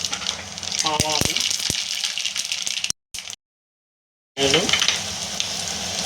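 Mustard seeds crackling and sizzling in hot oil for a Telugu-style tempering in gongura pickle prep, a loud steady hiss with sharp pops, breaking off into near silence midway before the sizzle returns strongly.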